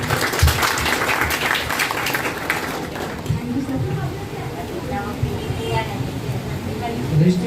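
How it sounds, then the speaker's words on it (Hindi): Applause from an audience for a teacher at a free computer-training certificate ceremony, brisk clapping at first that thins out into crowd murmur and background noise. "आप सब एक बार सर के लिए तालियां बजाइए"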